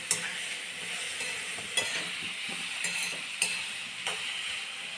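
A ridge gourd and chilli relish is stirred in a hot pan. A constant bright sizzle runs throughout, broken by a few sharp scrapes and clinks of the spoon, close up with no talking.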